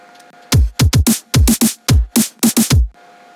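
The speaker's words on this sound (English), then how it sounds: "I've added a little bit of a fill loop made out of my kick and my snare" Drum fill loop built from a kick and a snare: about a dozen sharp, punchy hits land in quick uneven groups, booming low thumps mixed with bright cracks, loud and dry, with a short quiet gap before and after.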